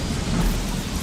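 Steady rain from a storm in the game Don't Starve, a dense, even hiss with a low rumbling undertone of thunder, continuous and fairly loud throughout.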